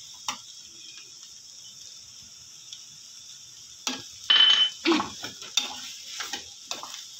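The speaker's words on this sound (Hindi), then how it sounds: "अच्छे से मिक्स कर लेंगे" Chicken filling ingredients for cheese bread rolls being mixed in a bowl, with a few soft scraping and clinking strokes clustered toward the end over a steady high-pitched background whine.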